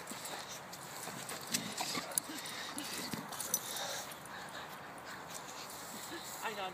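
A dog yips and whimpers amid rustling and scuffling, with people talking over it in a busy, close setting.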